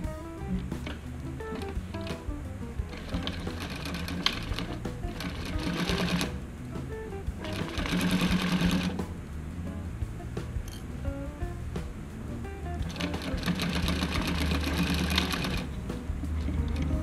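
Sewing machine stitching fabric for a pleated face mask, a steady continuous whirring hum with several louder surges as the stitching speeds up, running alone without talk.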